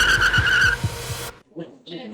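A car's engine revs hard and its tyres squeal as it pulls away dynamically, loud and close for the first second, then cuts off abruptly as a voice speaks.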